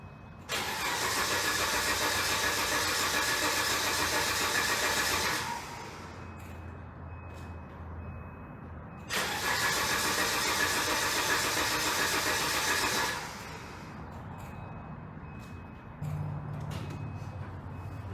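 An abandoned Volvo 850, unstarted for 12 years and with a fuel pump that seems to do nothing, cranks loudly in two long whirring bursts separated by a quieter pause, never catching and running.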